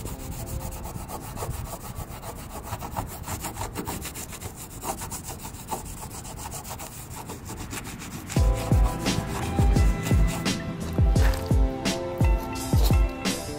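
A microfiber cloth dampened with Goo Gone rubs adhesive residue off a car's body panel where badges and side moldings were removed, a steady close scrubbing that turns into louder, choppier back-and-forth strokes toward the end.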